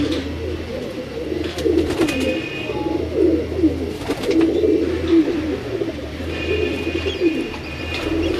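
Pigeons coo steadily on a Lahore rooftop loft, several birds overlapping in low rolling calls nearby, with occasional knocks and wing sounds and no speech.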